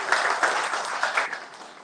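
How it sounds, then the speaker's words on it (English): Applause at a courtesy visit by a state governor to the Inspector General of Police, a short burst of crowd clapping that swells and fades over about two seconds. "Please, a round of applause."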